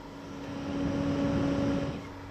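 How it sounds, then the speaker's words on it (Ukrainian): A steady low hum of a small UPS cooling fan whirring continuously, faint and even throughout. "крутиться кулер"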